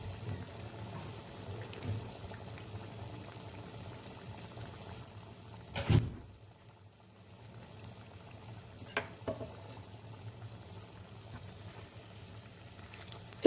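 Savory cheese-filled beignets frying in hot oil, a steady soft sizzle and bubbling throughout, close by, with a couple of brief clunks as they are turned.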